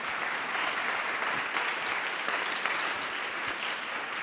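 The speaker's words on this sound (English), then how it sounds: "Please give a round of applause to our presenters." Applause from an audience at a session on brain degeneration, aging and African Americans, a dense, steady wash of many hands clapping, moderately loud and continuous with no voices.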